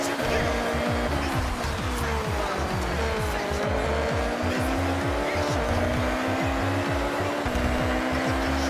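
Race car engines in a racing video game roar loudly and steadily throughout, with sweeping rev changes and tire squeal, alone without talk.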